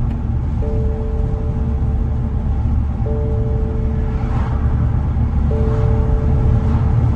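Inside a damaged 2010 BMW 320i hardtop convertible while driving, a continuous low rumble of road and engine noise carries a faint whining tone that recurs every few seconds, steady and close, with no voices.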